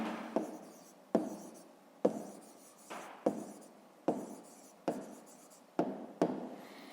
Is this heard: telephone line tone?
no